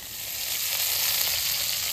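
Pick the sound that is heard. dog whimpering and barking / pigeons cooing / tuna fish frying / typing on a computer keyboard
tuna fish frying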